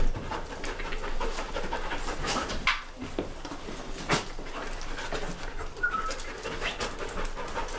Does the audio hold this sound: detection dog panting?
yes